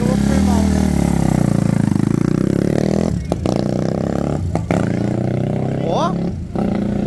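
A Honda Titan 150 motorcycle fitted with a quickshifter revs hard and accelerates, its loud, close engine note broken by brief cuts as gears shift without the clutch, with voices talking over it.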